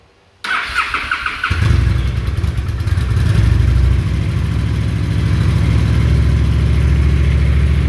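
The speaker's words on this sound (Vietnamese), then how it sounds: "bây giờ để mình nổ máy chiếc xe này lên cho anh em nghe luôn" A Honda Shadow 750 motorcycle with its stock exhaust starts up indoors, a short starter whir followed by the engine catching into a loud, deep, steady rumbling idle that carries on to the end.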